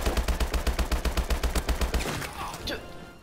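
Automatic gunfire in Call of Duty: Advanced Warfare, a rapid, evenly spaced burst of loud shots lasting about two seconds, then fading into softer game effects.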